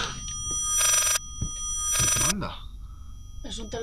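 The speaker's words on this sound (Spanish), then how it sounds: "¿Es un teléfono el que suena?" An old telephone rings in the horror video game Layers of Fear, with two loud bursts of ringing separated by a pause, while people talk over and around it.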